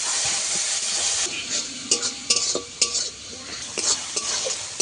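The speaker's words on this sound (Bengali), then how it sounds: "মশলা ভালো করে আমি কষিয়ে নেব আরও দু মিনিট" Turmeric and chili powder masala sautéing in oil for egg curry, a steady close sizzle broken by repeated sharp scrapes and clinks of a spoon stirring against the pan.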